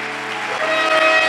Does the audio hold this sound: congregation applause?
yes